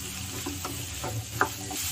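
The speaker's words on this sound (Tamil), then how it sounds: "ஸோ ஒரு டைம் நம்ம எல்லாம் இதை கொஞ்சமாக எண்ணெயில் ஒரு 5 மினிட்ஸ் வதக்கி வச்சுக்கலாம்." Diced pumpkin and snake gourd for a Kerala-style sambar sautéing in a little oil: a soft, steady sizzle with faint stirring scrapes, close and quiet, with no talking.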